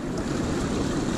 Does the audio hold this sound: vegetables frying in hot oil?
no